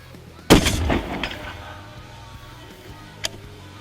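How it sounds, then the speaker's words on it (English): A single loud, close rifle shot at an engraved AR500 steel target, followed by a ringing tail and a faint distant metallic impact about three seconds later. "So I'm gonna hold the left side of the target and shoot again."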